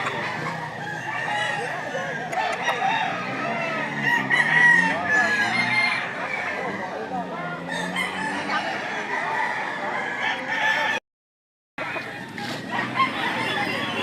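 Fighting roosters crow repeatedly at a gamecock market in Lipa, Batangas, loud and close, amid clucking and a crowd's babble of voices.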